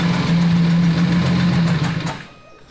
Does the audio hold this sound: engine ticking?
yes